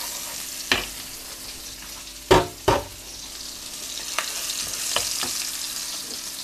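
Chilies stir-fry in a pan of oil left from frying eggs for Thai basil chicken: a soft, continuous sizzle broken by a few sharp spatula scrapes and knocks, close and unaccompanied.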